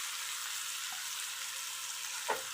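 Chopped onions sizzle in a hot pan while pork sisig is being cooked, a quiet, steady hiss of frying that continues evenly, with a brief faint clink near the end and no talking.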